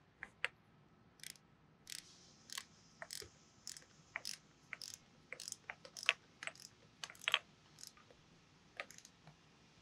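Torque wrench ratcheting while tightening bolts to specification on a Masport HXL series vacuum pump being rebuilt: scattered sharp clicks and short ratchet bursts, close but quiet, irregularly spaced, with no talking.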